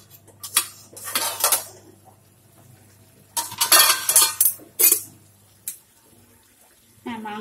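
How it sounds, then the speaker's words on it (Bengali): Metal clatter of a pot lid being lifted off a pan of chicken curry, with sharp clinks and scrapes in two clusters, then quieter pauses and a final clank. "আমি এবার ঢাকনাটা খুলে দেখব যে মাংসটা সিদ্ধ হয়েছে কিনা।"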